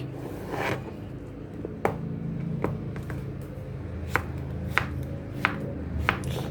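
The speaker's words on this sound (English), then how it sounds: "I'm sort of using a claw method to cut the courgettes so I don't cut myself." A knife chops courgettes on a cutting board in a home kitchen, with sharp, close clacks spaced about a second apart over quieter handling sounds.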